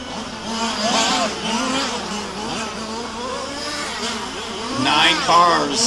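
Several race car engines roar and rev together as nine cars pull away from the grid at Warm Springs, loud and close, with voices talking over the engine noise.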